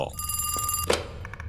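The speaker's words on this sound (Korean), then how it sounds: "전화 왔다" A telephone rings in a cafe horror video game: a bright electronic ring with tonal bursts, followed by a few short clicks, fairly close and clear.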